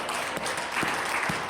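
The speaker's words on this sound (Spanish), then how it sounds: "Dale un aplauso a Dios por eso." A church congregation claps together in a sustained burst of applause with scattered cheering, moderately loud and filling the room for a short moment.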